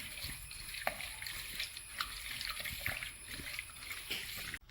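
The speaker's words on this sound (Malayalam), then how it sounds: "ലേശം പുളിയിൽ കലക്കിയിട്ടുണ്ട്. അതിൻ്റെ വെള്ളം കൂടെ നമുക്ക് ഒഴിച്ചു കൊടുക്കാം" Tamarind water poured into a simmering catfish masala in a village kitchen: a soft, quiet trickle and splash with a few small drips, fairly close and without speech over it.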